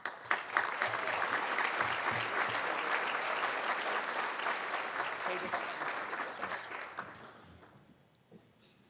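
Audience applause welcoming a speaker to the stage at a St. Thomas Day 2024 alumni event, steady and fairly close, swelling at first and then tapering off to a few last claps.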